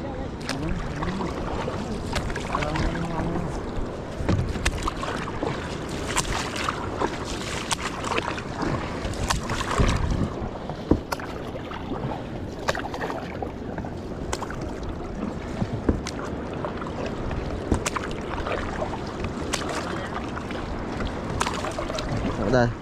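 Water laps and splashes around a small net-fishing boat amid wind noise, with people talking in Filipino throughout and occasional knocks against the hull.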